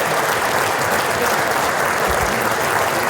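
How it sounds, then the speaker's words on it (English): A quick round of applause for swimming coaches at a fall monogram jacket ceremony, a dense continuous wash of crowd clapping from start to finish. "quick round of applause for the coaches"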